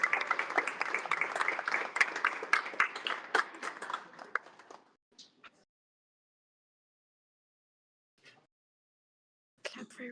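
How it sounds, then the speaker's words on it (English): Audience applause at a chess prize ceremony during a festival's final round, dense clapping for about five seconds that then stops abruptly, followed by near silence with a couple of brief faint noises and a short burst near the end. "Clap for Eric Rosen"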